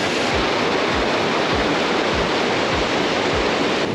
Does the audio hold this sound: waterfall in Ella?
yes